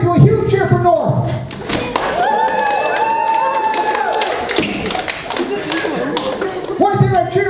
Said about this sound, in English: Do a huge cheer for North.